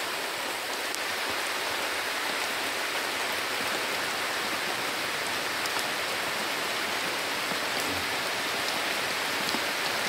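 Steady rain falls by a river, a dense, even hiss of drops that holds at the same level the whole time with no voices over it.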